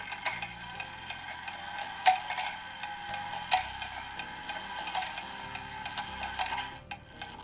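A 1940 Garrard oak mantle clock's movement clicks and whirs as the strike goes into warning, steady ticking with a few sharper mechanical clacks, close and quiet, no talk.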